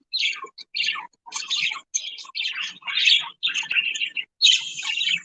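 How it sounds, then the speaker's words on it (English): A pet bird chirps close by in a rapid run of bright, repeated tweets with short gaps between them, clear and fairly loud with no talking. "He's chirping in response."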